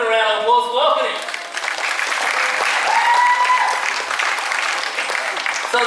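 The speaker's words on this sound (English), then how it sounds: "Let's give it a round of applause to welcome him." A show crowd applauds steadily to welcome a tiger named on stage, with a voice speaking briefly at the start before the dense clapping carries on throughout.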